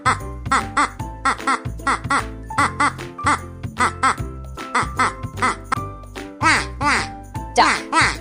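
A duck quacks repeatedly in short nasal bursts over bouncy children's music, with a baby's giggles mixed in toward the end.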